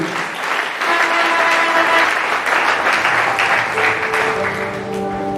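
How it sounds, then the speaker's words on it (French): A church congregation at a thanksgiving service applauding, sustained loud clapping from a large crowd with cheering voices and a tonal sound, likely music, running underneath, tapering slightly toward the end. "Est-ce qu'on peut acclamer pour la gloire de Dieu?"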